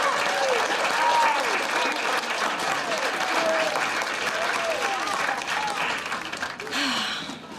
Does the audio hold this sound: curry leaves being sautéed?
no